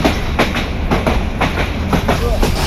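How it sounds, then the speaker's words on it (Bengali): A crowded Dewanganj commuter train runs through a curve on its way to Mymensingh Junction, its wheels beating a steady, loud clickety-clack rhythm against the rail joints. "ছোট্ট একটা কার্ভ নিয়ে ছুটে যাচ্ছে আমাদের ট্রেন"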